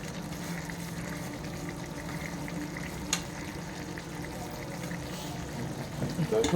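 Eggplant curry with crushed peanuts cooks in a pan, a soft steady sizzle and bubbling with a sharp clink partway through and louder stirring scrapes building near the end.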